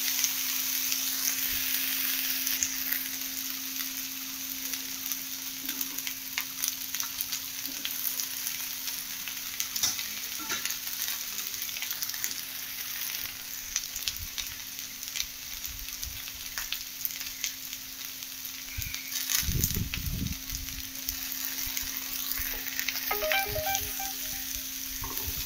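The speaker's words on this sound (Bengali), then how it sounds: "এবার ঢ্যাঁড়সগুলো দিয়ে দেবো, ঝাল দেবো, পেঁয়াজ দেবো, দিয়ে একটু কষিয়ে নেবো" Okra, chili and onion fry and are stirred in a pan. A steady close sizzle runs throughout, with occasional scraping and clinks of the utensil and a constant electrical hum beneath.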